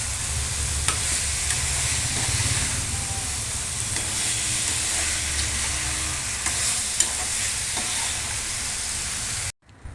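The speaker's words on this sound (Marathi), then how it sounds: "ही मिक्स करायची आपल्याला आता व्यवस्थित." A veg dum biryani mixture, salted and seasoned, is stirred steadily in a pan, with a continuous sizzle and scraping of the spoon close up and no voices.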